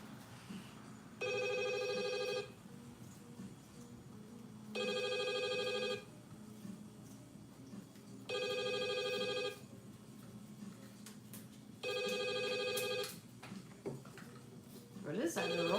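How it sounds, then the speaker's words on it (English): FaceTime video call ringtone sounding in four evenly spaced bright melodic bursts, each lasting about a second and a half with pauses between, clear over quiet room noise. "I see that when I talk to my granddaughters on FaceTime, that's the ringtone."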